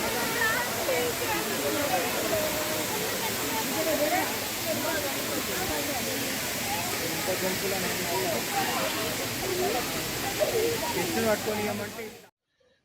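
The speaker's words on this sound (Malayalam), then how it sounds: "ഒരു കൃത്രിമ വെള്ളച്ചാട്ടവും അതിനടുത്തായി പക്ഷി സങ്കേതവും." An artificial waterfall at a film city, near a bird sanctuary, pours with a constant broad rushing wash that stays even throughout, while a voice talks over it, then cuts off abruptly at the end.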